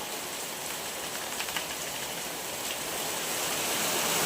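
Steady unseasonal rain falls outdoors at a home, a dense even hiss that swells slightly louder toward the end, with no voices over it.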